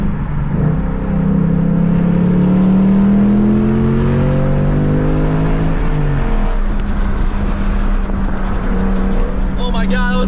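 Ford Mustang Mach 1 with a new aftermarket exhaust revving and pulling away, its deep engine note rising and falling in sweeping pitch under steady road noise, loud and close throughout.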